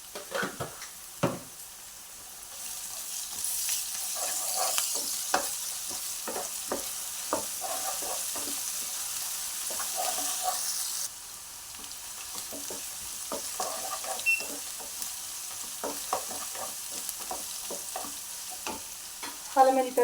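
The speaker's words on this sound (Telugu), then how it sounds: "అల్లం వెల్లిపాయ పేస్ట్ వేగుతున్నప్పుడు" Ginger garlic paste frying with onions in a pan for a soya tomato fry, a soft continuous sizzle with repeated scraping stirs and occasional clinks of the spoon against the pan.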